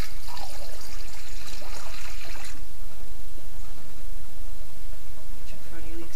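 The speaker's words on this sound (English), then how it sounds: "Got a mop bucket half full of water. I'm going to pour down this drain." Water from a half-full mop bucket pours into a floor drain during an RV floor repair, a loud splashing gush that fades into a steady trickle and gurgle, with someone talking over it.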